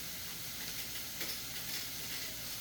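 Ground beef and sauce simmering in a pan for spaghetti, with a soft steady sizzle and gentle scraping of a spoon stirring, quiet and close, a low hum running underneath.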